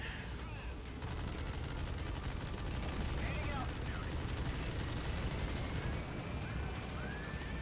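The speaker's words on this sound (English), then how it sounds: "Let me get on the machine gun." Rapid, sustained machine gun fire from Metal Gear Solid V: The Phantom Pain, a dense burst of evenly spaced shots running for about five seconds over steady in-game background noise.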